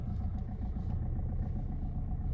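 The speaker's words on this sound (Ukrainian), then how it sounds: "Мотор працює чітко." A 2012 Kia Sportage engine runs steadily at close range, a low continuous rumble with a faint rhythmic pulse, no voices over it.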